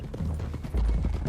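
Horse hooves clip-clop in Red Dead Redemption 2 during a rush toward the hills, a fast, muffled run of thuds mixed with low rumbling and distant gunfire-like bursts.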